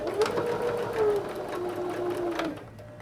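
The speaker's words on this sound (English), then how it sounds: "we're going to sew real gentle and easy, and I like to go back when I'm sewing through something really thick" Sewing machine stitching slowly and gently through a thick quilted pot holder, a steady motor hum with rising and falling whine as the pace changes, close and clear and continuing alone for about three seconds.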